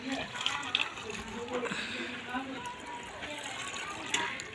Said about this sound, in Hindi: अब हम लाएंगे इसमें गुड़ का पानी।